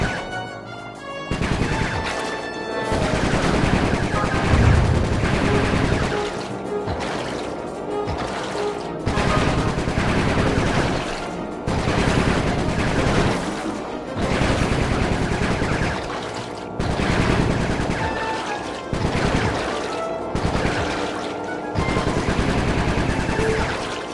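Heavy, continuous gunfire fills a Sly Cooper 3 action sequence, with dense bursts of rapid shots and crashes pounding loudly close by and stopping in brief gaps between the volleys.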